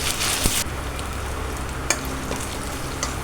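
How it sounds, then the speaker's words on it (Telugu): Ginger garlic paste frying in a pan and being stirred with a spoon, a steady close sizzle with a burst of louder crackle at the start and sharp spoon scrapes and clinks scattered through. "ఇలా ఇప్పుడు అల్లం వెల్లుల్లి పేస్ట్ ఇలా వేసుకొని స్పూన్ వేసుకొని ఇలా ఫ్రై చేసుకోవాలి"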